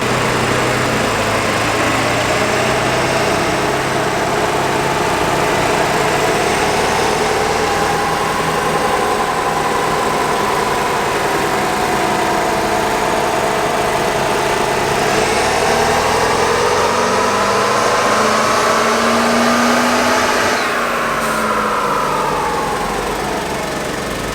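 A loud Ford truck engine runs continuously under heavy load on a dyno, its pitch rising and falling as it revs, droning steadily throughout.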